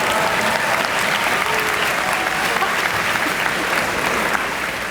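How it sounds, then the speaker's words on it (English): Audience applause for the graduating class at a high school awards assembly, loud sustained clapping from a large crowd that stays even throughout and eases slightly at the very end. "please join me in giving the class of 2024 one more round of applause"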